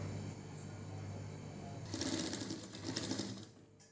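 A sewing machine runs steadily while stitching folded fabric edges on a garment at a tailoring class, a continuous close whirring that speeds up and grows louder midway before slowing.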